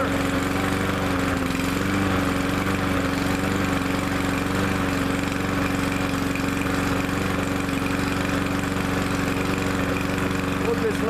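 An MTD lawnmower engine runs steadily after a cold start, with a loud, even, buzzing drone and no pauses.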